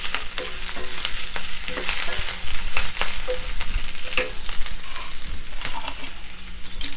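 Baby corn and green chili sizzle loudly in a hot pan for a Chinese-style dish, with steady frying crackle and scraping stir-tosses up close throughout.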